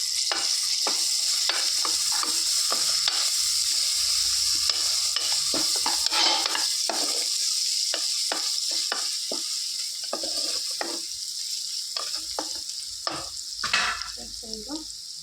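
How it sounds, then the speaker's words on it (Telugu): Ginger garlic paste and turmeric are stirred in a hot pan, a steady sizzle under busy scraping and clinking strokes of a spoon, close up, with no one talking. "ఒక వన్ స్పూన్ అల్లం వెల్లుల్లి పేస్ట్ ఒక వన్ స్పూన్ పసుపు వేసుకొని కలుపుతున్నాం"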